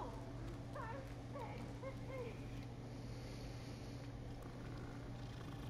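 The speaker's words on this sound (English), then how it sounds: "Look at the kitty." A cat purrs while being petted in the video game Hogwarts Legacy, a soft steady hum beneath constant low background game ambience, with faint chirpy calls early on.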